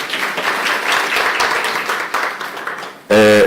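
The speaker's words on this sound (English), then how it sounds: "Please give them a round of applause." An audience at a stakeholder roadshow event in Durban applauds, a sustained wash of clapping lasting about three seconds before cutting off into a sudden loud tone.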